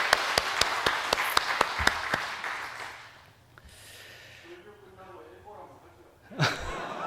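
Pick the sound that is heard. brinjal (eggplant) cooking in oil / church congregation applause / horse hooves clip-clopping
church congregation applause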